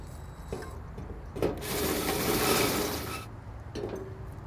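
A hole saw cuts a ventilation hole in the side of a Techo-Bloc MiniCreta firepit unit: a loud, rasping grinding burst lasting about two seconds, framed by quieter handling knocks before and after.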